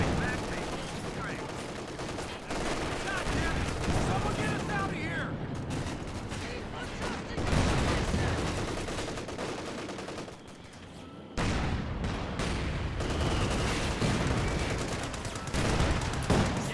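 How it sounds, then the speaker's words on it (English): Anti-tank gun firing on a command tank in a real-time strategy battle, with bursts of gunfire, explosions and machine-gun chatter overlapping in a dense, continuous din. "It's trying to position this anti-tank gun to get some hits in on the command tank."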